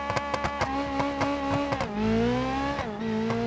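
Chevrolet Covet-style stock front-wheel-drive car in BeamNG, engine revving hard toward the rev limiter with stuttering limiter pulses, then a shift and a rising whine as it pulls again, loud and close.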